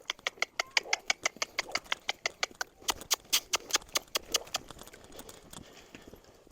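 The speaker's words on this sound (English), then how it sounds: "Okay, I'm going to lope him for a second." A red colt lopes under a saddle, its hooves striking in a quick, steady rhythm of sharp clip-clops that stay close at first, then soften and thin out toward the end.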